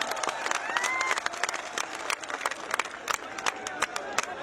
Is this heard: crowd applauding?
yes